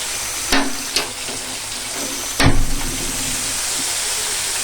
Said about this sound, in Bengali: মশলাটা, মানে পেঁয়াজটা আর আদাটা একটু ভেজে নিই